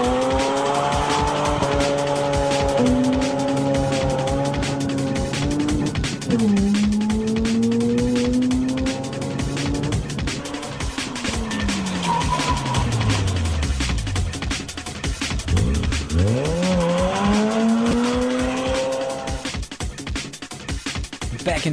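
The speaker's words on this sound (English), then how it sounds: "I can do a burnout." A car doing a burnout, engine revving and rising in loud sweeping tones while tires squeal and skid continuously, close and intense throughout.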